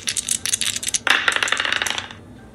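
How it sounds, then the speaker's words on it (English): Dice rolled onto a hard surface, a quick run of sharp clicking rattles and bounces that gathers into a busier clatter before settling, close and fairly loud, with no talking. "Now I need to roll the dice a second time."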